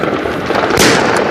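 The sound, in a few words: fireworks exploding on New Year's Eve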